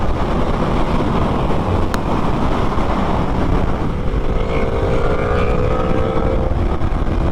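A KTM Super Duke R big two-cylinder motorcycle engine roars steadily under heavy wind rush, its pitch climbing into a tonal whine partway through.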